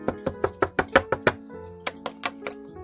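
A run of eight sharp knocks on a door in an Estonian-language video game, quick and even, then a pause and a slower set of four more knocks, close and clear with no talk over them.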